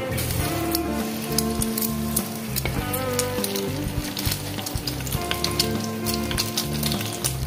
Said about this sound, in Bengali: ডিমটাকে আমি আগে থেকে ফেটিয়ে রেখেছি, দিয়ে আমি একটা করে ভাজবো